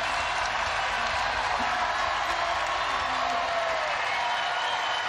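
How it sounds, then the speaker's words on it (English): A volleyball crowd at a Baylor vs Texas match roars steadily in a broad wash of cheering and whooping, sustained and fairly loud throughout. "The crowd is louder than it's been all night here in Gregory"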